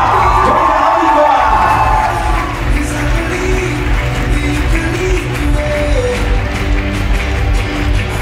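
An audience cheers and whoops for a graduating student at a high school sash ceremony, a loud crowd roar with yells and applause that stays up throughout, with voices mixed in.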